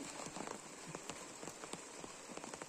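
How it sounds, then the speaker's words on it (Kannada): Monsoon rain falling during an outdoor bike wash, a faint, dense patter of drops striking surfaces, steady and continuous with no voices. "ಮಳೆ ಶುರು ಆಯ್ತು."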